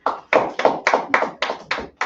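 Rhythmic hand clapping from an audience at an Atlanta Sabbath service, eight crisp claps in a steady beat about a third of a second apart, fairly loud and close, with no voices over it.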